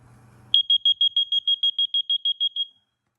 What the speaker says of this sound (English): This is a water alarm right here.